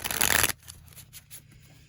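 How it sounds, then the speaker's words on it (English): Deck of tarot cards being shuffled, a quick close riffle lasting about half a second, followed by faint soft handling sounds with no talking. "Let's get one more shuffle here,"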